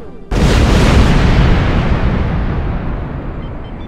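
A torpedo blast breaking through an asteroid's rock in Star Trek Online: a single sudden, loud, roaring explosion that bursts in sharply and then rumbles on, slowly fading across several seconds.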